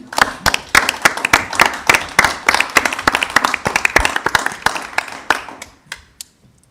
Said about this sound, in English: So we could give him a round of applause, would be great.